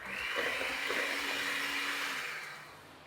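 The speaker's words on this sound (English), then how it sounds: "And give that a little whisk." A mixture of potato flour and salt being whisked gives a steady, loud whirring drone that holds for about two seconds and then fades slightly, with no talking.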